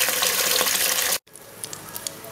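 Garlic fries in bacon fat with a loud, steady crackling sizzle that cuts out abruptly midway, followed by quieter scattered pops and ticks.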